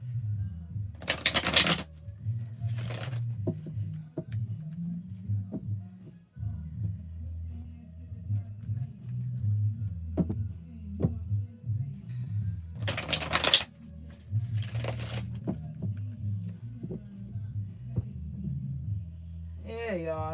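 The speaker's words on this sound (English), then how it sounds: "All right, so let's pull some cards." Tarot cards are shuffled in a few quick, crisp riffling bursts close to the listener, separated by a low steady hum and quiet handling sounds as a person talks softly.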